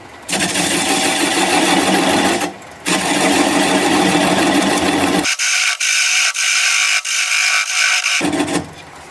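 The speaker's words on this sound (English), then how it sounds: "I'm going to grab a 3/8 inch bowl gouge and begin to commence removing that tenon." A wood lathe spins a Gravenstein apple bowl at about 400 RPM while a 3/8 inch bowl gouge removes the tenon, producing a loud steady rasping cut that breaks off twice and changes tone partway through.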